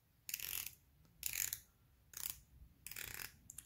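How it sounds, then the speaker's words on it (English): A bronze dive watch bezel on a tuna-style case is turned in four separate quick bursts of fine ratcheting clicks, each burst close and crisp with short pauses between. "Let's move the bezel."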